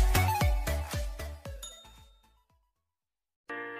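A subscribe-bell sound effect: a rapid run of about nine bright metallic dings that fade into silence, followed by a tonal chime entering near the end.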